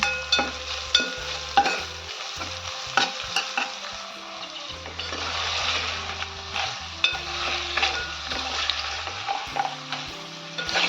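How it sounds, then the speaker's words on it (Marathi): Chopped onion sautéing in a pan for a spicy crab curry, with a steady loud sizzle punctuated by repeated scraping and clinking strokes of a spoon stirring against the pan. "कांदा छान परतून घ्यायचा आहे आपल्याला."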